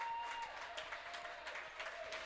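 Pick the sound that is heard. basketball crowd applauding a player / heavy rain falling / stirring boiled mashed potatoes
basketball crowd applauding a player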